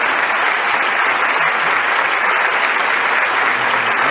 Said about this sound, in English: Please join me in offering another warm round of applause to express our gratitude to President Buhari.